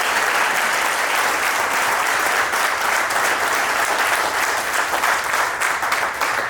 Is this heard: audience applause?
yes